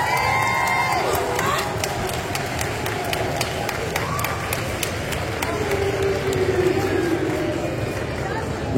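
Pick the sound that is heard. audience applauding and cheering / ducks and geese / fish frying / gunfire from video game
audience applauding and cheering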